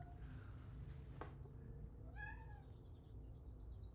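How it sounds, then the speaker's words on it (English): A cat meows a few times, fairly faint and a little distant, with one short rising-and-falling cry standing out against low background hum. "Meowing up a storm."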